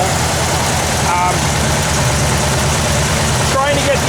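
A Kubelwagen engine idles after a tune-up, giving a steady, close, rumbling putter with an even beat and faint background voices.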